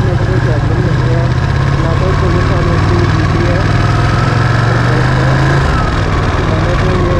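Ducati motorcycle fitted with an aftermarket exhaust, engine running steadily at close range with a constant low throb and rumble, no talking.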